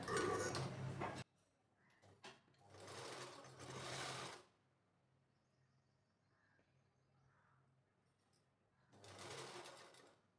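An electric sewing machine stitches saree fabric in short bursts, with loud whirring runs separated by quiet pauses and faint handling noises.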